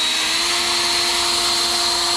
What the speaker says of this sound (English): And then we got turbo mode.